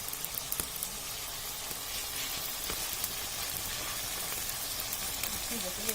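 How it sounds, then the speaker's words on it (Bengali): Small mola fish fry with spices in a pan, giving a steady close sizzle dotted with light crackles and pops throughout. "এটা আমরা একটু কয়েক মিনিট রাখবো, যাতে একটু মাছের সাথে মশলাটা একটু ভাজা ভাজা হয়।"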